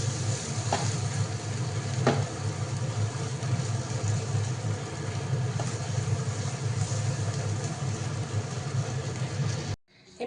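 Food fries in a pan with a steady, even sizzle that runs unbroken and fairly loud for most of the stretch, then cuts off abruptly near the end.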